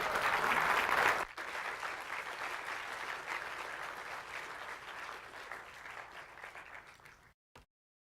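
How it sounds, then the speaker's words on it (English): A large audience at a plenary session of a conference bursts into loud, sustained clapping that tapers gradually over several seconds before stopping abruptly. "let's have a round of applause for Lauren."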